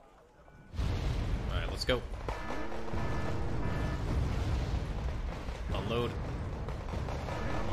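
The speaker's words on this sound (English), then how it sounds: "big rounds are coming in. Already for our base." Artillery shells land near a base in the real-time strategy game Wargame: Red Dragon, heavy booming impacts and rumbling blasts piling up over several seconds, loud and dense, with someone talking over them.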